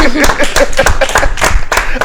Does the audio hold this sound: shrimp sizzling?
no